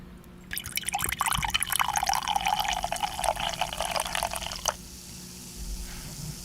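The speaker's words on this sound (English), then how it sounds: "And the pouring, the best part." A fizzy drink pours from a can into a glass for about four seconds, a close, bubbly liquid stream with crackling fizz, which stops abruptly and leaves a faint hiss over a low background hum.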